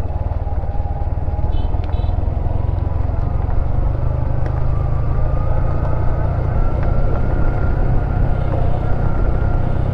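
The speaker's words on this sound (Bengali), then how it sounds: "ইঞ্জিন ব্রেকে আছে, তাও হচ্ছে আমার ব্রেক ধরতে হইতেছে, গাড়ি কি পরিমাণে টানতেছে।" A vehicle creeps down a steep hill in Bandarban on engine braking. A loud, steady low engine drone holds unbroken throughout, with no speech.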